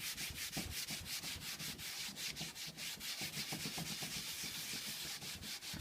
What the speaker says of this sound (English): What I'm trying to do is really just work this dark wax into my paint